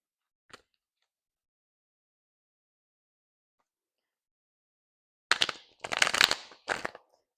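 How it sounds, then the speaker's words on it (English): Tarot cards are reshuffled by hand in a few quick riffling bursts, close and crisp, following a single soft tap and a long stretch of silence. "I'm going to reshuffle."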